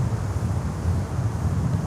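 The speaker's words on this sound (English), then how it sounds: "it's super windy" Strong wind buffets the microphone at Miami airport in gusts near 30 knots, a loud low rumbling roar that surges and dips throughout with no talking.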